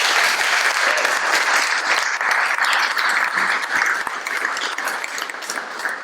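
An audience at a university inaugural lecture in Belém applauds a professor, with loud, dense, sustained clapping that fills the room and tapers slightly toward the end.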